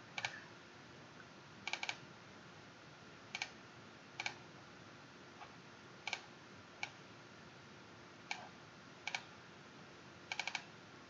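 Sharp mouse clicks, single and in quick double pairs, spaced every second or two in a quiet room while drafting timber designs in OnShape CAD software.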